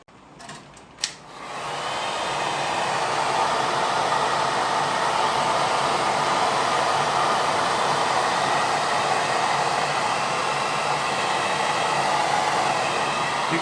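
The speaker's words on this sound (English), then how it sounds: "we're going to hit this now with the hot air dryer" A hot air dryer roars on after a couple of clicks and keeps blowing steadily and loudly over a prop skeleton being aged with dripping paint, a constant broadband whoosh with no talking.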